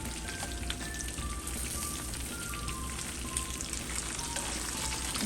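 Mustard-coated fish frying in hot oil just after being flipped, a dense steady sizzle and crackle, close and continuous with no voices.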